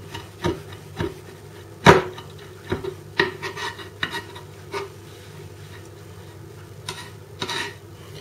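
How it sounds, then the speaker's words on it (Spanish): A knife chops chili for guacamole on a board, a series of sharp irregular taps, close and distinct over a quiet background, with one especially hard strike. "intentar picarlo un poquito más con el cuchillo"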